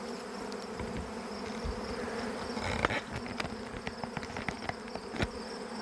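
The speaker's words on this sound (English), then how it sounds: "we're in the middle of the swarm" A honeybee swarm buzzes around hives during an inspection, a dense, continuous hum with individual bees zipping close past at moments, loud and unbroken throughout.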